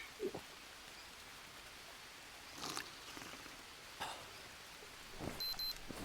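Rain falling in a survival video game: a steady hiss of rainfall with occasional louder splashes and drips, faint and even, with no talking.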